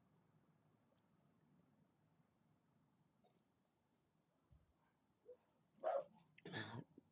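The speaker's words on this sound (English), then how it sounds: "My dogs are going" Dogs bark a few times in quick bursts toward the end, fairly close but moderate in level, after a stretch of quiet room hum.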